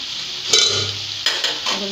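Bottle gourd and beans fry in their own released water, giving a loud close hiss and sizzle with a couple of sharper stirring scrapes over roughly two seconds.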